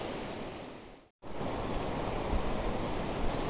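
Cold mountain stream water rushes steadily past in Sonamarg, Kashmir, a broad, close roar of flowing water that briefly cuts out and then returns at full, constant strength.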